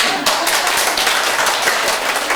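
Students in a Korean real-estate licensing lecture hall give a loud, dense round of clapping that holds steady through the short stretch, with no pauses.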